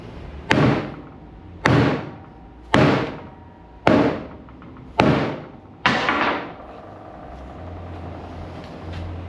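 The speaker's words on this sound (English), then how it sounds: "Let's step it up to a, I guess it's a 2-pound hammer." Six heavy blows from a 2-pound hammer land on a composite-toe work boot at a steady pace, each a sharp loud thud fading quickly, followed by a few seconds of low background hum.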